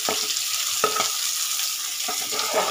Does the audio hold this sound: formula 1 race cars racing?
no